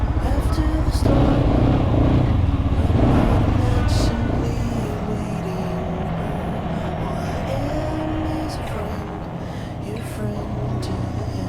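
A motorcycle rides in the rain through heavy traffic on a Colombian road, its steady engine drone and wet road rumble continuous and close for the whole stretch, with a voice talking over it at times.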